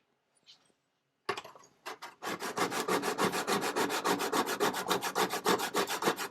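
A vintage hand plane blade is ground and sharpened with a fast, steady run of close back-and-forth strokes, each one a gritty rasp, after a few scattered scrapes at the start.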